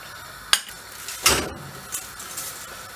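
A utensil knocks against a pot of salted boiling water being stirred before pasta goes in, giving a few sharp clinks and scrapes over a quiet bubbling background.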